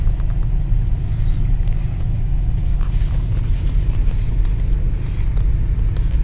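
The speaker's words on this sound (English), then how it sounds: "Looks like old Jeep clubs riding the struggle bus coming through the creek" Jeep club vehicles crawl through a creek on an off-road trail, giving a heavy, continuous low engine rumble with splashing water and wind buffeting across the microphone.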